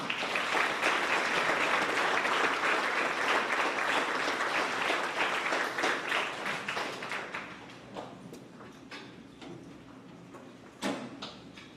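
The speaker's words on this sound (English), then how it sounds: "Give her a round of applause, please." Sustained audience applause at a grades 4–6 school awards ceremony, a dense steady clapping from a crowd indoors that gradually thins and fades toward the end, leaving a few scattered claps.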